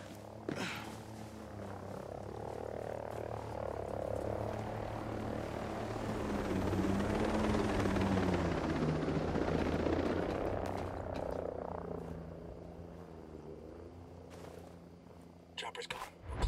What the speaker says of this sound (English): Chopper overhead.